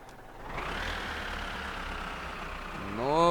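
A tractor engine running at a steady idle, then throttled up at the end into a louder rising whine.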